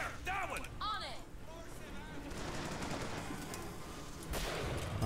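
Gunfire in the BioShock Infinite video game: a dense, noisy burst of shots and clatter. Brief voice-like calls from the game come first.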